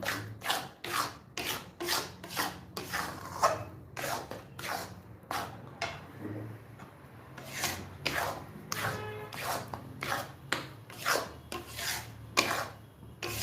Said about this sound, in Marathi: आता बिस्किट सारखा कलर आला पाहिजे तोपर्यंत आपल्याला जी मिश्रण हलवत राहायचे